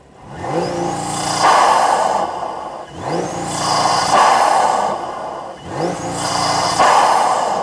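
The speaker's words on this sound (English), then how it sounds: "film a few iPhone clips of what it sounds like activating the launch control, and it sounds pretty mental" A turbocharged BMW F80/F82 with an Eventuri intake revving on launch control, three repeated loud rev cycles that rise, hold at a raspy bouncing limit and drop, recorded close.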